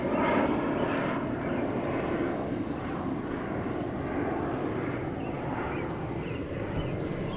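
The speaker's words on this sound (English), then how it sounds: "it's Pilot Boy, and he's flying up into those clouds" Airplane climbing up into the clouds, a steady, moderately loud engine roar that holds for the whole stretch with faint higher tones above it.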